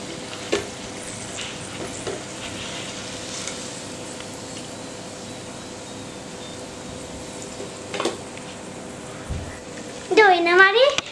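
Banana flower vadai, a Tamil plantain-blossom fritter, frying in hot oil with a steady low sizzle throughout, a few clinks of a utensil, and a voice speaking at the end.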